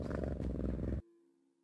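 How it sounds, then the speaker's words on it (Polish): A cat from the Mo Creatures mod in Minecraft gives a loud, close, rhythmic purr for about a second, then cuts off abruptly, leaving only a faint low hum. "Kot śpi."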